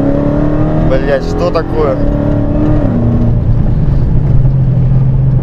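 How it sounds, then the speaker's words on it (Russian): A Dodge Challenger Hellcat with over 700 hp accelerates hard, its engine note climbing as someone speaks briefly at the start, then settling into a steady loud drone from inside the car. "просто нажимаешь газа 2 сантиметра. У тебя скорость со 100 до 150 моментальная."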